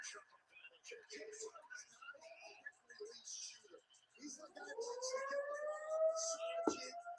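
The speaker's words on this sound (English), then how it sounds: "The sirens are coming back." A warning siren wails from a distance, its tone rising and then holding steady, after a stretch of quiet talking.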